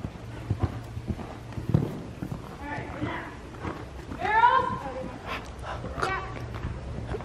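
Horse hooves clip-clop in a rhythmic trot, close and moderately loud, with people speaking and a dog barking intermittently over the hoofbeats.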